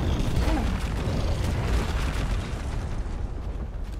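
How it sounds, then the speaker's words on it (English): A deep rumbling explosion boom that rolls on as a continuous, loud low roar for several seconds before slowly easing off, with no talk over it. "Make it go boom!"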